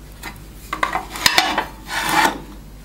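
Abrasive sanding of bevels on a knife handle profile in a workshop; a few short scraping strokes and rubs, close and moderately loud, with one sharp knock midway, no speech.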